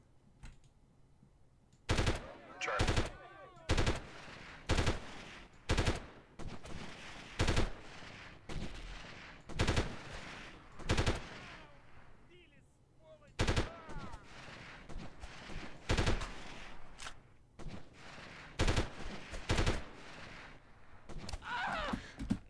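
Gunfire in the 1998 tactical shooter Delta Force, Kosovo mission: a long run of sharp, loud shots, some single and some in quick bursts, spaced irregularly over roughly twenty seconds, with quiet gaps and faint background between them.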